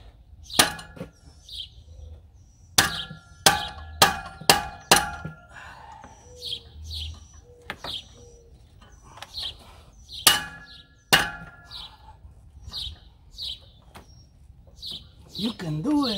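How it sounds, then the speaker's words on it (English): Sharp metallic hammer blows on a crescent wrench ring out in bursts, some in quick succession, loosening a part on a 2006 Jeep LJ Rubicon 4.0L engine, with birds chirping between strikes. "crescent wrench with the hammer counterclockwise to hopefully loosen this thing"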